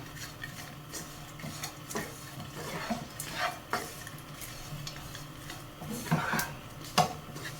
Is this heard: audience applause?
no